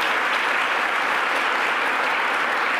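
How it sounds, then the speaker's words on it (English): Audience applauding at a press event in Buffalo with New York Governor Hochul, a steady wash of dense clapping that holds evenly throughout, loud and close, with no voices on top. "Let's give her another round of applause."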